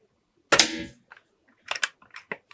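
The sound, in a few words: Air Arms X200 Vanguard PCP air rifle shot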